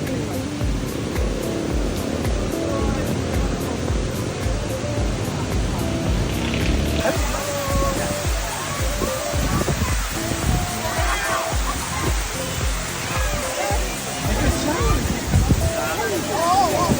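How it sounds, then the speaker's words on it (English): The Tumalog horsetail waterfall in Oslob, Cebu, roughly ten stories high and surrounded by tropical rainforest, giving a steady, loud, continuous rush of falling water, with a voice talking over it throughout. "This horsetail waterfall rises 10 stories high."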